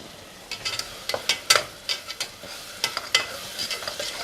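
Coarsely ground tomato paste hits a hot pan for tomato rice, giving a close, crackling sizzle broken by a series of sharp spatula scrapes and stirring strokes in an uneven rhythm.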